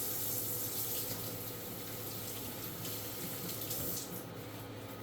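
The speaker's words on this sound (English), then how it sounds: "We'll give our hands another wash." Water runs steadily from a tap into a sink during handwashing, a close, continuous hiss with slight changes near the end as hands move under the stream, no speech.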